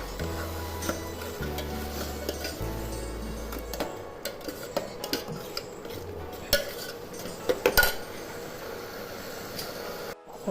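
Sweet masala corn stirred in a pan with a spoon: repeated scraping and metallic clinks against the pan over a low background hum, with sharper clatters toward the end and no talking.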